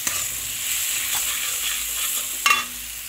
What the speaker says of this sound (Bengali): এটাকে ভালো করে আবার একটু কষিয়ে নেব